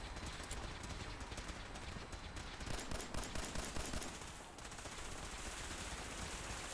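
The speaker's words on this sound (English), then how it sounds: "Let's just use the minigun a little while longer on these guys" A minigun fires in Fallout 4 as a fast, continuous rattling burst of rounds, dense and sustained, briefly intensifying in pulses near the middle before settling back to a steady stream.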